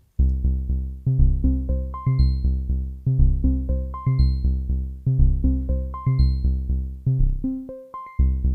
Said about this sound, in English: And the last 5 are high notes, and they're all short, so it sounds like this.